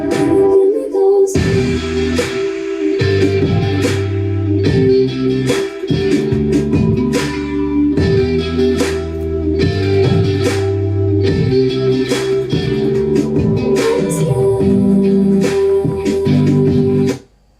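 A remix plays loud and steady with guitar and a punchy drum beat under sustained melodic parts, running continuously before stopping abruptly at the end.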